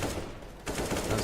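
Gunfire in Counter-Strike during a pro league match, a dense continuous rattle of rapid shots with a brief dip midway, loud and close.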